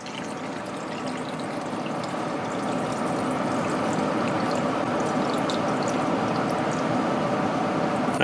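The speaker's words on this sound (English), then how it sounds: "Gonna fill it to the top with some nice" Cold water running steadily into a cooking pot in a kitchen, a continuous rushing pour that stays even and fairly loud from start to finish with no voices.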